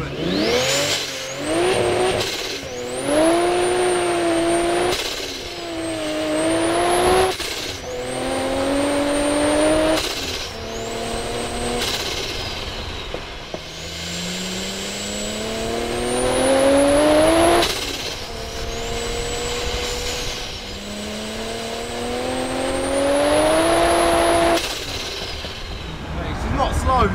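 A race-spec BMW E46 M3 with a swapped Toyota Supra 2JZ engine revs up and down through repeated gear changes, rising pitch sweeps broken by shifts, with mechanical gearbox chatter throughout and voices occasionally over it.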